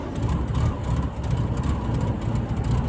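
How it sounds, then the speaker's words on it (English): A Toyota car engine idles low and rough, as if about to stall, a steady close rumble with uneven low throbbing and no talk over it. "I don't need to tell you something's wrong when your car sounds like this"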